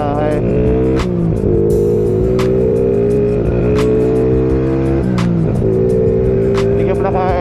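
A Yamaha Sniper 135 motorcycle engine revs hard and loud close by during a test drive, climbing repeatedly with sharp shifts between gears in a continuous snarl.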